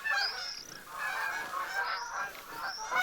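Geese honk repeatedly in a nasal, overlapping chorus within the hunting game theHunter: Call of the Wild, calls rising and falling steadily over a soft outdoor ambience.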